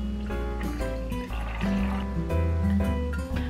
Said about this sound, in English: So I'm just gonna be pouring this coffee into the milk, and then they just get to stir. Alright, so this is what it looks like right now. I'm just gonna be pouring it over ice.